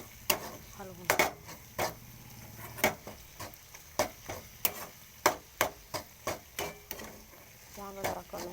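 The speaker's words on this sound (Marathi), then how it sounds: "पूर्ण एकजीव मिश्रण करून घ्यायचं, हलवून." A spoon knocks and scrapes steadily through brinjal chutney in a pan, a run of close, sharp taps and scrapes at an irregular rhythm with a soft sizzle beneath and no talking.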